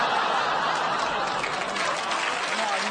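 A comedy audience breaks into steady applause mixed with scattered laughter, a dense close wash of clapping lasting a few seconds.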